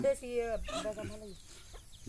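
Hill chickens cluck close by at a backyard poultry farm: a few short, throaty calls in quick succession, then quieter clucks trailing off.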